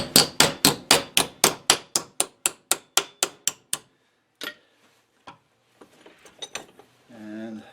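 Around fifteen sharp, ringing hammer blows bend a metal grounding bar in a quick, even run, followed by a few scattered knocks and a brief voice.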